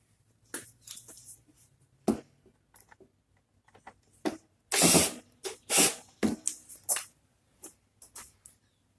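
A power drill driving small screws into an electric lawn mower switch at a low torque setting, sounding in short, gentle trigger bursts with pauses between them, close up, with no talk.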